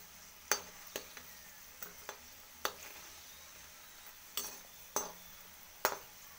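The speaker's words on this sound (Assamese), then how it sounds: "গেছৰ ফ্লেমটো কমাই ৰাখি মই এনেকৈ ৰঙচুৱা হোৱালৈকে ভাজি থাকিম" Mini samosas fry in oil over a low gas flame, giving a faint, steady sizzle punctuated by sharp clinks of a utensil against the pan at irregular intervals.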